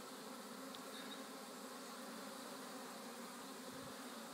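A honey bee swarm hangs in a tree about 12 ft up, fanning and buzzing in a dense, continuous, faint hum that holds steady throughout, with no voices.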